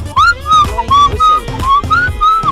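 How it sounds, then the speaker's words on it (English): Bright, gliding whistled notes rise and fall in a short, lilting melody, close and fairly loud, with no talking. "Some of you blow whistle when you are happy."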